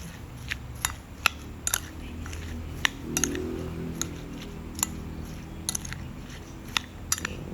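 Light clinks and taps of a spoon stirring sugar and seasoning in a bowl, irregular and fairly close, over a low steady background hum.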